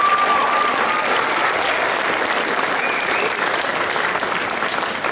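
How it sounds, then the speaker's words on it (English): An audience at a high school spring concert claps steadily, with dense, even applause filling the hall for several seconds. A faint voice can be heard under it. "You can applause, that's fine."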